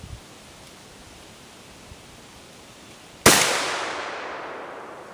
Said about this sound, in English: I'm going to be shooting the top barrel first on here for that.